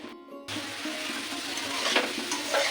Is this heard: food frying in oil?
yes